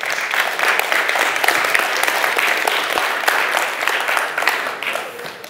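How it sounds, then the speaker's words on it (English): Dense, steady applause from a church congregation fills the whole stretch at full loudness, a continuous wash of many hands clapping with faint voices mixed in before it tapers slightly at the end. "They clap when I said your name, you know."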